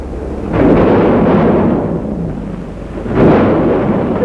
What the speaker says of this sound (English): The storm's right behind us.